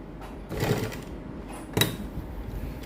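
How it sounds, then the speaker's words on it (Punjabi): A sewing machine runs double stitching along a V-neck in two short, close bursts of rapid mechanical whirring, separated by a brief pause, with no talking. "ਇੱਥੇ ਆਪਾਂ ਡਬਲ ਸਲਾਈ ਕਰ ਦਾਂਗੇ"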